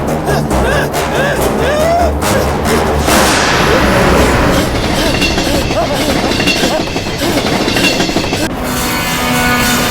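A train rumbles loudly along the rails with rhythmic clattering of wheels, close by and continuous, with a rising screech of metal partway through, in a film scene.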